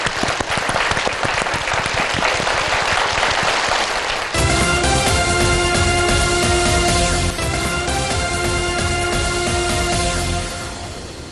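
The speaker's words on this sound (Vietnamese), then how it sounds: "chúng ta cùng dành một tràng vỗ tay thật lớn để chúc mừng họ" Loud, sustained applause from a large television game show audience, dense clapping that carries on for several seconds over a musical backing before tapering off near the end.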